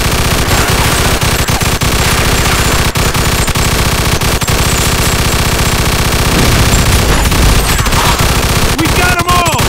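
Sustained, loud automatic gunfire from a shootout in Mafia II, with continuous rapid bursts and sharp cracks filling the scene and brief voices under the barrage.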